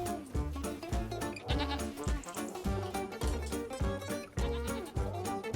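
Goats on a farm bleat again and again in loud, close, overlapping calls that keep a steady, almost rhythmic pattern.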